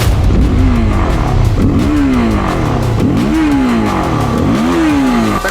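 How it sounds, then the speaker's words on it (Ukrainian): A Lifan KPT 250 fuel-injected motorcycle engine runs loudly and close, rising and falling in repeated revs about once a second with a rough, steady idle underneath. "Ліфанівський двигун. Працює він дуже класно. Зараз ви це почуєте."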